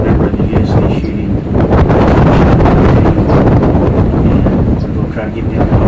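Strong wind buffets a microphone outdoors on a Texas hog hunt, a loud, continuous, rumbling roar that swells and dips throughout.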